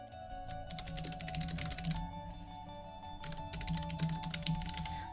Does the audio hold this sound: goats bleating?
no